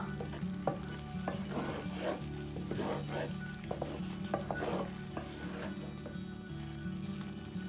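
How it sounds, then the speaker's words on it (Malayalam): Sardine fish curry with a thick gravy bubbling in a pot, a steady low simmer with crackling pops and soft stirring scrapes, close and continuous. "അപ്പോൾ നമ്മുടെ മീൻ കറി നല്ലപോലെ തിളച്ചിട്ടുണ്ട്"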